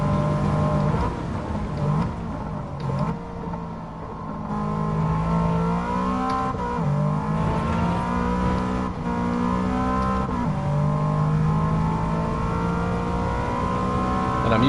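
A race car engine in the video game Gran Turismo 7 holds a high, buzzing drone near 150 miles an hour, with the pitch wavering and stepping as it revs. The engine stays loud and continuous, with no talk over it.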